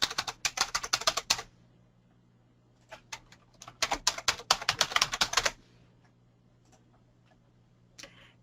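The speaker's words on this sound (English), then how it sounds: "I can enter my library card number" A library card number typed on a computer keyboard, two fast clusters of crisp key clicks close by with a pause between them, over a faint steady hum and no talking.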